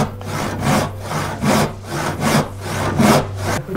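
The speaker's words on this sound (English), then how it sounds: "Cutting out the big dovetail here." A hand saw cuts a dovetail into wooden chest molding with steady back-and-forth rasping strokes, about two per second, close and alone.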